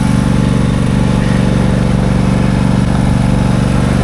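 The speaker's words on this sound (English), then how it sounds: "You can't use this mower when it's like this." A lawn mower engine runs steadily at close range, a loud, even mechanical drone with a fast regular pulse and no pauses or speech.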